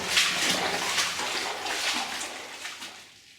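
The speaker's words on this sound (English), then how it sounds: "If you listen carefully, you can hear water dripping, or a lot of water falling down there." Water splashes and pours steadily inside a flooded mine about 2,100 feet in, where a fissure and a pipe release water, making a continuous rushing, splattering wash that fades slightly toward the end.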